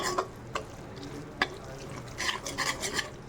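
Spiced gravy for prawn roast being stirred in a pan, a few scraping clinks at the start, then a busier run of scraping and clatter toward the end, with no talking.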